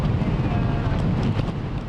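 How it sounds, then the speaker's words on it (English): Strong Super Typhoon Yagi gusts buffet a flood-prone waterfront neighbourhood on eastern Hong Kong Island, a loud, rumbling roar of wind battering the microphone throughout, with a voice speaking over it. "Gusts pounded the area."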